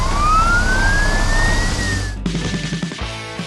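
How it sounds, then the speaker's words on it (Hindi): Emergency vehicle sirens from a cartoon rescue of police car, ambulance and tow truck, a loud rising wail sweeping upward and holding, then cutting off into a quieter siren tone with engine rumble beneath. "सायरन की आवाज हवा में गूंज रही है।"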